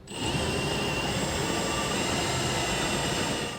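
Drill cutting through the steel frame of a 1993 Dodge truck at low RPM under firm pressure: a steady, loud, close grinding whir with a high whine, sustained without pause and no talk.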